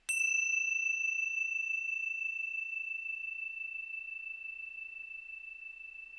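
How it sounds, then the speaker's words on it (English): A single bell is struck once with a bright attack and then rings on as a pure, sustained tone that decays slowly over several seconds, clear and alone with no talk. "noticing the sound of the bell"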